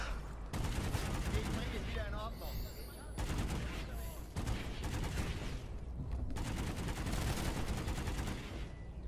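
Dense automatic gunfire fills a Planetside 2 battle, with rapid bursts overlapping in a steady roar, sweeping effects layered in, and a voice speaking beneath the din.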